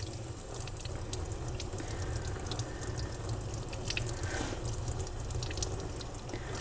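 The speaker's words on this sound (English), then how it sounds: "And then I'm going to start to run my water." A tap runs into a sink while a paintbrush is washed, giving a faint, steady trickle and splash with light dripping, close by and without talk.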